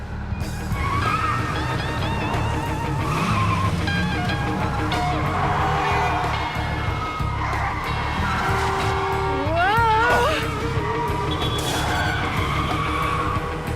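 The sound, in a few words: car driving through red light in a video game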